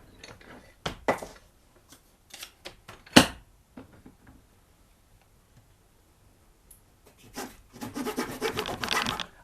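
A hand fret saw cuts fret slots in a wooden fingerboard, heard close as scattered ticks and short scrapes, then a denser run of rasping strokes near the end.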